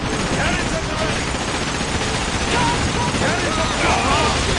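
Ship cannons firing during a pirate battle in the video game Like a Dragon, a dense, loud, continuous barrage of booming blasts and rumble filling the whole clip.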